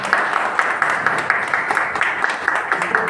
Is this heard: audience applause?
yes